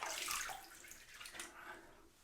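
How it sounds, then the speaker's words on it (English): Water splashed onto the face during wet shaving, a soft close wash of splashing and dripping with a brief burst midway, fairly quiet and without talk. "Put some water on the face really quickly."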